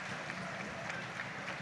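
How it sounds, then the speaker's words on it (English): Faint, steady applause from football fans in a stadium stand at a National League match between Gateshead and Woking, a soft continuous patter of clapping heard from a distance. "he's getting a nice round of applause from the Tyne-and-Wear stand from both sets of fans"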